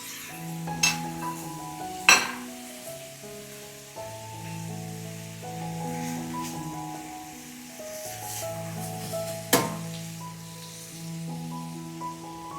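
Shrimp, celery and spring onion stir-fried in a pan, with steady scraping and stirring under background music and a few sharp clinks of utensil on pan near the start and end.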